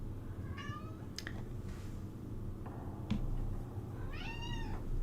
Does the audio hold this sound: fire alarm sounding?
no